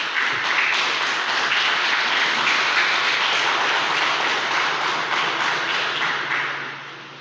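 A church congregation claps together at a worship service, a dense, steady wash of applause that holds for about seven seconds before tapering off at the end.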